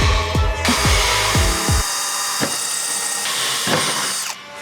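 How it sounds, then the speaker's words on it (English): A power drill whirs in several short bursts, then runs in a long, steady high-pitched whine while boring through material, close by with no talking. "Drill some holes at some point."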